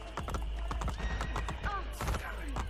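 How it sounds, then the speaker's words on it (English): A horse in Assassin's Creed Brotherhood clip-clops in a quick hoofbeat rhythm and lets out a clear neigh, over constant game background noise with some voice mixed in. "My horsey."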